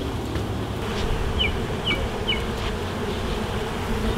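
Honey bees buzz around a hive, a continuous, even hum close by, with a few faint bird chirps briefly in the background.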